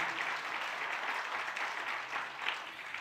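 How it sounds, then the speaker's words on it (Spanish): A congregation applauds during a Spanish-language Christmas Day church service, a steady wash of clapping that holds at an even level for about three seconds, with no talk over it. "denles aplauso a Dios"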